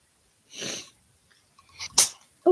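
A single sharp human sneeze sounds close and loud, with a brief breathy lead-in before it and a short catch of breath or voice just after, in an otherwise quiet room.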